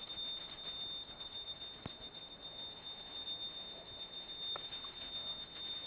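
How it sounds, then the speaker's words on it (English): A hand bell rings steadily during a Hindu water offering ritual, a thin, high, sustained ringing that stays faint and distant under a low background hum for the whole stretch. "please ring the bell as you do so"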